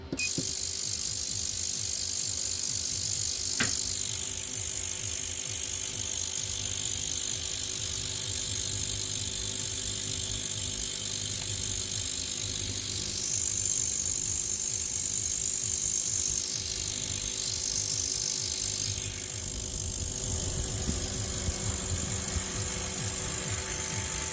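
Ultrasonic cleaner cleaning a motorcycle fuel injector, giving off a steady high-pitched whine with a constant hum underneath, close and continuous with slight wavering in tone.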